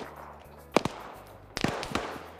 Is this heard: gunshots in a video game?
yes